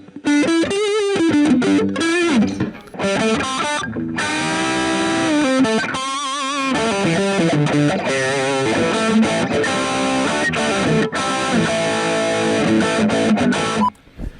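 Electric guitar run through a Friedman BE OD Deluxe overdrive pedal set around the edge of breakup, playing continuous chords and single-note lines with a gritty, lightly distorted tone and no talking.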